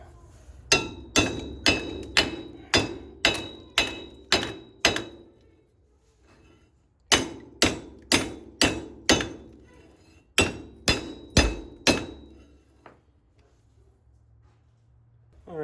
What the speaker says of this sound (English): after some little persistent hammering, took it off